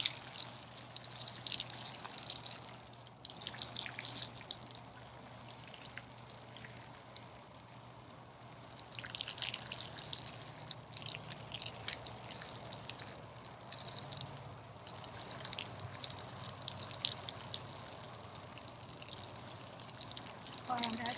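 Water runs steadily from a hose during a bath, a continuous splashing, trickling wash with voices talking over it throughout.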